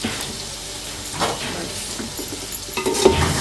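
A spatula stirs vegetable fried rice in a hot pan, making close, continuous sizzling with scraping and light clinks of metal against the pan, with no voices.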